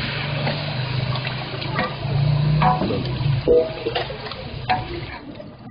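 Beef chunks frying over high heat for a karahi, a sizzling hiss with scattered clicks and spatters as the meat is stirred, close by and fairly loud.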